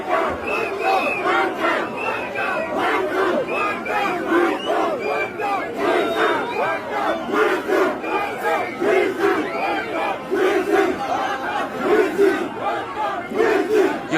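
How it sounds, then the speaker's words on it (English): A large crowd at a political gathering in Kiambaa chants WANTAM in loud, rhythmic unison, its repeated shouted phrases rising and falling steadily for the whole stretch. "A man in Kiambaa led the crowd to chant WANTAM in front of Kawanjiku."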